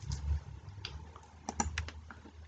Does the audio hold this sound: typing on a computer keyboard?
yes